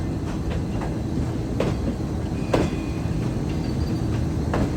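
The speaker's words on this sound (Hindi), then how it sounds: "ये देखिए हमारी ट्रेन का मुड़ने का मनाजिर खानेवाल पर।" A Shalimar Express train turning at Khanewal station: steady low rumble of the rolling train heard from inside a car, with faint intermittent clicks and clacks of the wheels over the track.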